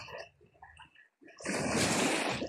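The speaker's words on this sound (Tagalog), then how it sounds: "Ang ganda ng hampas ng alon mga kapilipi." Ocean waves crash onto a beach where people are swimming, a loud broadband wash of surf rising suddenly after a quieter stretch with faint voices and lighter water sounds.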